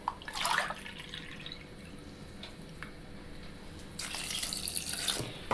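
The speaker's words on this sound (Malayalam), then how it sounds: "അതിലേക്ക് വെള്ളം ഒഴിച്ചു കൊടുക്കാം." Water pours into a pressure cooker holding soaked green gram in a couple of splashy bursts, first near the start and again toward the end, with quieter trickling and drips in between.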